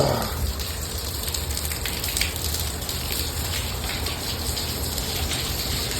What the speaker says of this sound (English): Nice little hailstorm passed through.